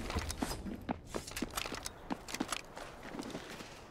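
Footsteps in the video game Delta Force, a series of soft, irregular muffled steps moving close behind over ambient game noise, with no talk.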